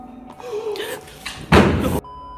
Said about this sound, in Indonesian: we actually caught the door opening